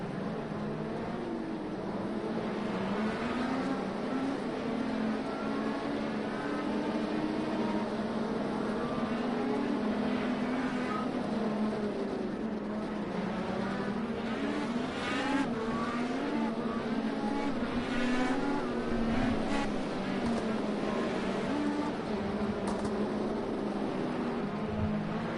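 IndyCar race cars from a racing video game run a formation lap, their engines droning steadily throughout with rising and falling pitch sweeps as cars pass and accelerate, a continuous loud motor roar with no talk.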